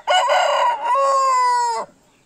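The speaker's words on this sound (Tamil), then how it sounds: "இது டை பிளாக் சேவல்." A tie black country rooster of the kattu seval type, a bird over 4 kg on a farm near Coimbatore, gives one loud, close crow with a long drawn-out ending.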